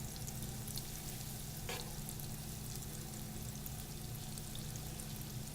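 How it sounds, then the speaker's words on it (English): Unsalted butter melting in a pan, giving a steady, even crackling sizzle with a faint low hum beneath it, continuous and fairly quiet with no voices. "So I'm taking a little bit of butter and I'm melting it."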